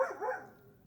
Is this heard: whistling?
no